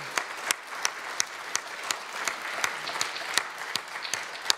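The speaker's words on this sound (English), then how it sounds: "Please give them all a round of applause." Applause for military veterans in a Lutheran church service, a modest congregation clapping with distinct individual claps standing out in an uneven rhythm, moderately close and steady for several seconds.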